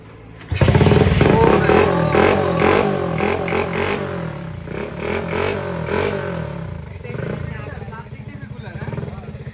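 A motorcycle fitted with a homemade plastic exhaust fires up with a loud roar and keeps running with a rough, clattering idle close by, while people talk over it.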